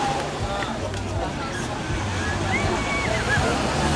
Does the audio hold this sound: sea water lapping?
yes